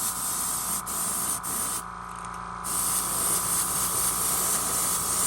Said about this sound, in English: let me get done spraying this last little bit on here.